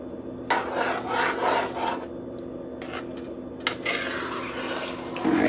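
Callaloo soup made with Swiss chard is stirred in a pot, a repeated close rasping scrape of the utensil against the pot in uneven strokes over a low bubbling background.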